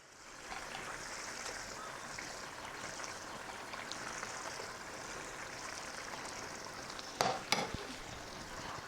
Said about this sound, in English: let's add the garam masala and let's give it a quick stir. And now let's add the omelette pieces in here.